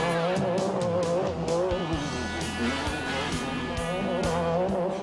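Race cars roar past with high, wavering engine tones and tire squeal on a track, several machines overlapping loudly and continuously, with sharp skidding bursts mixed into the din.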